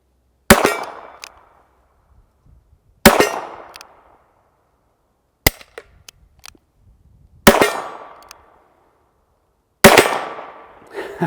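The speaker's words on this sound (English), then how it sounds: "you should hear 5 different reports if you listen closely" Five sharp, loud reports from a Smith and Wesson K-22 revolver, fired one at a time about two to three seconds apart, each with a brief ringing decay and quiet between shots.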